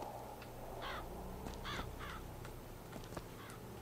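Several crows caw in BioShock Infinite, harsh ragged calls in short clusters over a steady low game ambience, moderately close with no talk.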